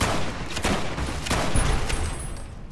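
Gunfire in the video game Fallout: New Vegas, including a 10mm pistol, heard as a few sharp shots spaced about half a second apart over a constant dense roar of combat noise.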